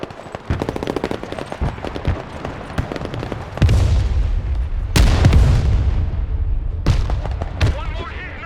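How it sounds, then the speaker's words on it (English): Rapid automatic gunfire crackles in bursts through the first few seconds of a Broken Arrow battle, then heavy booming explosions land repeatedly, loud and close, with radio-style voices speaking over the combat. "Heavy weapons team is under fire!"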